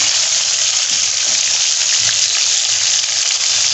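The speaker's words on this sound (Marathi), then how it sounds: "हे बघा छान असा फ्राय व्हायला लागला आहे तो मासा" Fish coated in semolina frying in a pan, a steady close hiss of sizzling oil that runs unbroken and fairly loud throughout.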